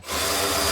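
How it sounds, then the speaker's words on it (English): A power driver whirs steadily up close as T15 screws go back into a truck taillight on a 2015-2020 Canyon/Colorado, a short, loud, even buzz with no talk. "Take your two T15 screws and reinstall them."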